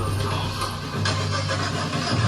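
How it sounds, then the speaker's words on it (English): An engine starts up and runs on a theme park ride at Universal Studios, giving a steady, fairly loud mechanical hum and rumble that holds evenly for the whole stretch with no talking. "engine running"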